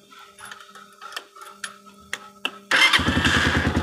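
A motorcycle engine starts up, turned over after a run of clicks and ticks, then catches and settles into a loud, steady idle with a close, rhythmic exhaust pulse.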